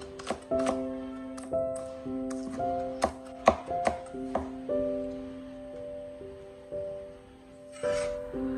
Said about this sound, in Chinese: 将青椒切成小圈。